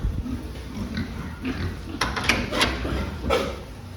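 A spotted pig in a small weighing crate on a farm grunts several times in short irregular bursts, close by, mixed with clanks and rattles of the crate.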